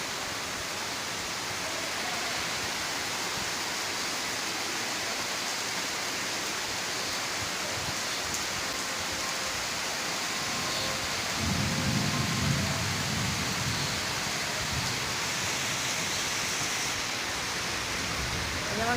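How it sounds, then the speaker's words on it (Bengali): Steady, dense rain pours down as heard from a balcony, a continuous broadband hiss with a low rumbling swell partway through, moderately loud and unbroken throughout. "আজকে খুব সুন্দর বৃষ্টি হচ্ছে"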